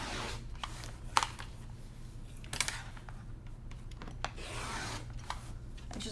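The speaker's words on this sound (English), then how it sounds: "Actually, I'm just going to cut right here." Scissors cut through several layers of fabric in sparse, crisp snips and rasping rubs spread over a few seconds, close and fairly quiet, with no talking.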